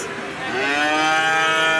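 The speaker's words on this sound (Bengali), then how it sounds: "আমার থেকেও বড় এত বড় গরু দেখছেন" A single long, deep moo from a very large cow swells and holds close by at a cattle market in Keraniganj, rising in loudness partway through with no talking.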